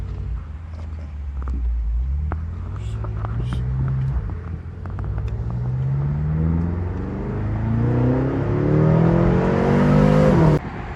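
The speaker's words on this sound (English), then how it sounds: "it sounds really unusual for a V8" A 2018 BMW M6 4-liter V8 engine revs up through several rising sweeps, loud and close, the pitch climbing steadily before cutting off sharply near the end.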